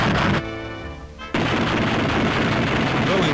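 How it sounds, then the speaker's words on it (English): P-47 fighter machine guns test-fired by ground crews, a dense, continuous roar of rapid fire that briefly drops away before resuming loud and sustained, close and dominant. "testing the guns"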